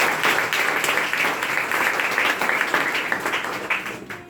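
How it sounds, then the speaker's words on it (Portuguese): Guests at a church wedding ceremony for Paulo and Joelma applaud in a steady, dense patter of many hands that carries on evenly before fading slightly at the end. "Pode aplaudir, Jesus."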